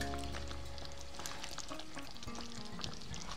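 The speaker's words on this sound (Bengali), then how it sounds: "পনেরো মিনিট পর ঢাকনাটা তুলে আমি একটু নেড়ে দিচ্ছি।" Chicken curry with potatoes in a pot, Old Dhaka white-curry style, being stirred after the lid comes off: a steady low simmering sizzle with soft scraping strokes throughout, close and continuous, no voices.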